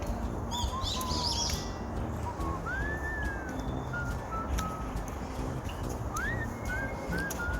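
Forest birds calling and singing along a woodland footpath after rain, scattered clear whistled notes and chirps at moderate distance over a soft, steady outdoor background.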